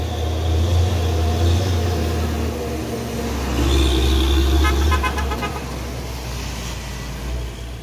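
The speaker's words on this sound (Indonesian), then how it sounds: "Dan ini truk tangki CPO Hino 500." A Hino 500 CPO tanker truck drives past on a road amid traffic, its diesel rumble steady and loud, swelling midway as short horn toots sound near the middle.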